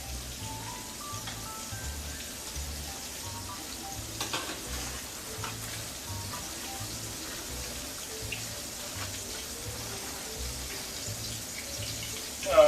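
A pork chop frying in a pan for old-fashioned fried pork chops, a steady close sizzle running throughout with a faint tonal background and a brief louder bump at the very end.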